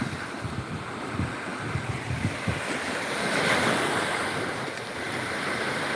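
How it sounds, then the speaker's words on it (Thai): Sea waves wash onto the beach at Pak Phanang, Nakhon Si Thammarat, Thailand, a steady soft roar of surf mixed with wind buffeting the microphone, swelling briefly near the middle. "นี่ครับก็บรรยากาศดีมากครับชายทะเล อำเภอปากพนังจังหวัดนครศรีธรรมราชนะครับ"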